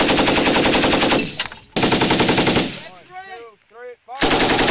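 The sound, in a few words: US military machine gun live fire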